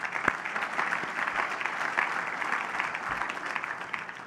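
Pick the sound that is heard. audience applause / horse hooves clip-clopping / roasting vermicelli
audience applause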